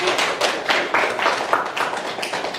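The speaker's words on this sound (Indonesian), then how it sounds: "tepuk tangan sekali lagi" Students in an Indonesian university teacher-training class clap together, a short burst of rhythmic, fairly close hand claps.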